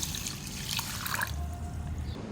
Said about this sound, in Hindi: पानी डालूँगी। इसको अच्छी तरह से वॉश करके आधे घंटे के लिए मैं इसको भिगो दूँगी।